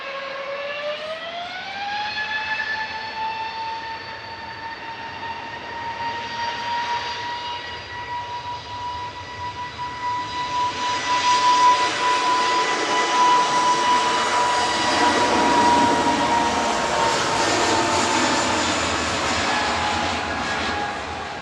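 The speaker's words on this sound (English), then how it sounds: "CS TVI, it's an A320 Neo" Jet engines of an Airbus A320neo at Manchester Airport whine up in pitch, then settle into a loud steady tone, and a broad roar swells as the aircraft passes close by.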